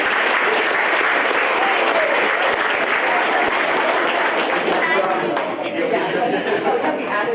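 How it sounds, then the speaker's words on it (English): Sustained audience applause for students at a school committee meeting, a full room clapping steadily with some chatter mixed in, tapering slightly toward the end. "Could we have a round of applause for our students?"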